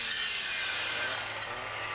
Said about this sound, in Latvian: Kokus var zāģēt, izmantojot rāvienu.